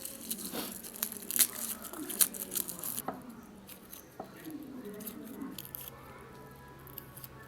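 A whole head of garlic is peeled by hand, giving close, irregular papery crinkles, tearing and small taps, busier at first and then quieter, with no talking.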